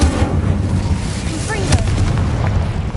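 A fiery Incendio spell blast from a Harry Potter video game, a dense rumbling burst that fills the short stretch with steady booming energy and a few bright crackling flares.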